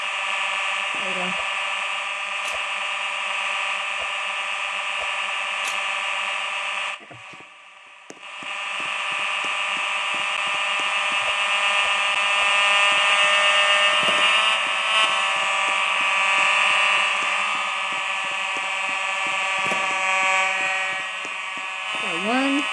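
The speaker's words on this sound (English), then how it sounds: "let's just pull the fire alarm" A Simplex fire alarm blares a loud continuous tonal buzz during a test, stopping briefly before resuming, with scattered clicks and faint voices beneath.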